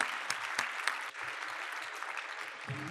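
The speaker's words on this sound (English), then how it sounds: "Let's give them all a round of applause." A conference panel audience applauds steadily, a dense wash of clapping with a few sharper claps standing out near the start, continuing throughout.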